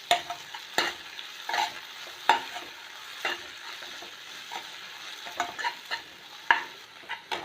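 Tomatoes fry in a pan for an egg pepper fry while a spoon stirs them, scraping in a dozen or so sharp taps and strokes over a steady close sizzle. No one speaks.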